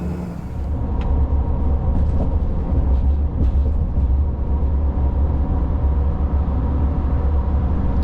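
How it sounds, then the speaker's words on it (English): Steady low-frequency road roar and drone from a 2024 RAM Cummins diesel pickup on 37-inch tires with a 5-inch lift, cruising at highway speed around 70 mph, continuous and fairly loud inside the cab. "Let's talk about the sound level with these big tires."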